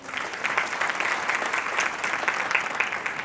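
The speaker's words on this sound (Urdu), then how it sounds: "ٹھیک ہے جی, تالی بجائے بچے کے لیے" Audience applause at a Christmas sermon, a steady, dense burst of many hands clapping together for a child, fairly loud and continuous without pauses.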